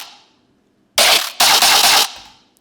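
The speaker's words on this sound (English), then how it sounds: "it's just a laser sound" A laser sound effect sample layered with bass sounds, panned wide: two loud bright bursts after a quiet lead-in, a short blast followed by a longer sustained zap, with a faint trailing tail.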